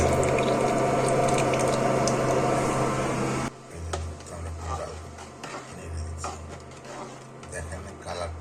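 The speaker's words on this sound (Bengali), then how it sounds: "সেই গুড়টা আমরা এই যে দুধের মধ্যে এখন আমরা ঢেলে দেবো" Date palm jaggery syrup being poured into a pot of milk while cooking payesh: a steady, hissing liquid pour at first, then a quieter, uneven trickle and bubbling.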